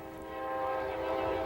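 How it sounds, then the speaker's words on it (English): A Norfolk Southern train sounds its warning whistle near a trestle, a sustained tonal blast that swells slightly louder over a continuous rumble, heard alone without talk. "Now Norfolk Southern trains sound warning whistles on trestles with proven records of danger"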